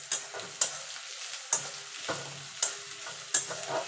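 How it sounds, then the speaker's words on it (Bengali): Onion frying in a pan for a spicy chilli chicken dish, a soft steady sizzle broken by repeated sharp scrapes and clacks of a stirring spoon, close and alone with no talk. "পেঁয়াজটা একটুখানি ভাজা ভাজা করে নেব।"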